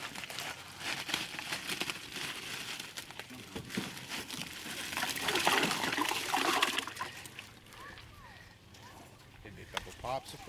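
Six bags of ice dumped into a water-filled truck box give off crinkling plastic and a rushing, splashing surge that peaks midway before easing into trickles and small clunks, with people talking over the noise.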